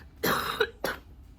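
A person with a recent cough gives two short, fairly close coughs in quick succession, the first fuller and the second briefer, against a quiet room.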